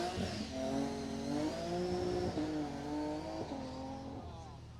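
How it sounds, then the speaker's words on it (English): Martin Pallett's BMW E30 rally car, number 31, drives past on a stage of the Jersey Rally, its engine revving through rising gear pulls with brief shifts between them, close and loud before fading slightly at the end. "That's car 31, Martin Pallett in the BMW E30."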